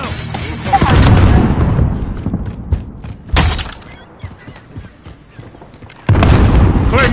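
Several loud booming blasts in Call of Duty: Modern Warfare, a grenade going off among heavy thuds and gunfire, with brief voices between the bursts.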